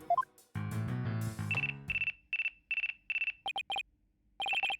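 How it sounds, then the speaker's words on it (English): Phone ringing in the Ace Attorney Dual Destinies video game: a short musical jingle followed by a series of electronic ringtone pulses in quick repeated bursts, clear and alone. "Looks like I have a phone call."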